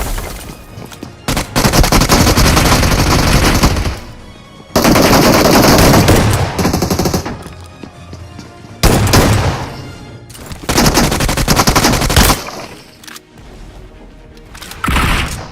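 Bursts of K9 and M4 automatic rifle fire in the mobile shooter BGMI rattle loudly in several long sustained volleys separated by short pauses, sharp and close.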